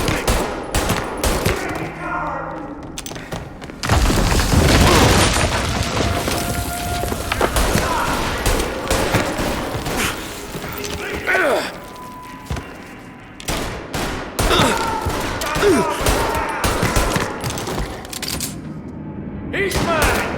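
Gunfire in the video game Mafia Definitive Edition during a police shootout, with rapid bursts of shots and thuds over game music and shouting voices.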